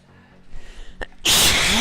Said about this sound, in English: I gotta sneeze.